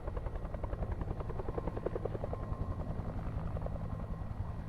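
A video game helicopter drones with a steady, pulsing rotor chop that grows slightly louder as it approaches, heard alone without talk.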